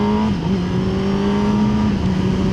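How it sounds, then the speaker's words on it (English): Kawasaki ZX-10R Ninja superbike, a 2025 model, revving hard and pulling away, its engine note loud, close and continuous, with the pitch dipping briefly on a gear change before climbing again. "You need to wind it on to get it going"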